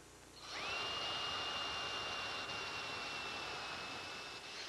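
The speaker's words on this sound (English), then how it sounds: "So the first thing I do is drill the pilot hole to the right depth." A drill boring a pilot hole in wood spins up quickly to a steady high whine with a grinding cutting noise and holds it close to the microphone.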